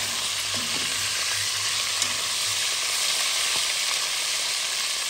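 Sausages sizzling in a pan for a sausage curry with cabbage, a steady dense frying hiss throughout, close and alone with no voices.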